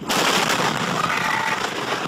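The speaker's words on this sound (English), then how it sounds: "Deadly fertilizer plant explosion slammed Central Texas town." A deadly fertilizer plant explosion in a Central Texas town roars as a loud, sustained blast rumble lasting a couple of seconds, captured in news footage.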